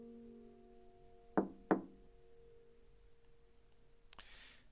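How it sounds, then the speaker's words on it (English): Two firm knocks on a wooden door in the video game The House in Fata Morgana, sharp and evenly spaced a fraction of a second apart over a quiet, faintly droning background, followed by a short soft noise. "I clenched my teeth and gave the door 2 firm raps"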